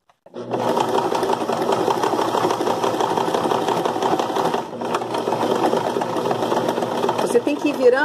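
A sewing machine runs steadily at zero stitch setting, set for a buttonhole-style stitch as fabric is turned slowly, its mechanical whir continuous and close for the whole stretch, with a brief pause midway; someone talks over it.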